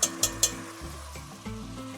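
Couple tablespoons of tomato paste frying in a pan, a soft steady sizzle with a few sharp spoon taps at the start and a stir against the pan.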